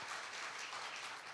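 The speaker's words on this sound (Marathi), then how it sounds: "त्या पुस्तकासाठी खूप टाळ्या होऊ द्या" An audience applauds a book at a Marathi talk with an Army major, a steady, soft wash of clapping with no voices over it.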